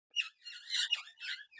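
Pet parrots give a run of bright, scratchy chirps and squawks in several short bursts, fairly close but quiet, with no talking.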